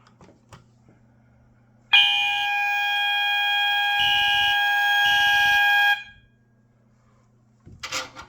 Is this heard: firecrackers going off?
no